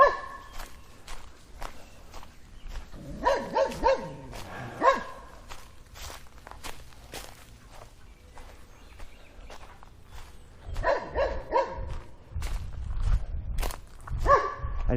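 Dogs bark in short bursts from nearby on a lake-front suburban trail, mixed with footsteps crunching along the path between the barks.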